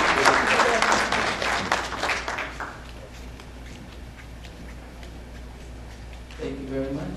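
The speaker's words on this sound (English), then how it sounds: "Let's give her a round of applause." At a banquet and dance, an audience gives a round of applause: loud, dense clapping for a couple of seconds that thins and fades, leaving low room noise before a voice speaks.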